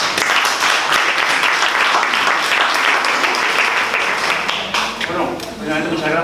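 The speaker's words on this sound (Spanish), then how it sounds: "Un fuerte aplauso para él." A hall audience claps loudly and densely for a district adviser being introduced, a sustained close roar of hands that thins slightly near the end as a voice starts to speak over it.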